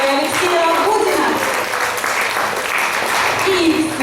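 A studio audience gives loud, sustained applause as two finalists are called up for a final; the clapping stays dense and continuous, with a voice faintly carrying over it.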